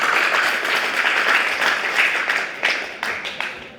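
Audience clapping at a class 10 school farewell programme, a dense sustained burst of applause from a crowd that holds steady and then tapers off near the end, with a few sharper individual claps standing out.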